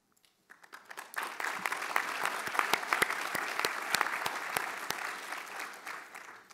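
Applause from a breakfast audience at a business leadership event starts after a moment of quiet, swelling into a steady mix of many hands with sharp individual claps standing out, moderately distant and continuing to the end.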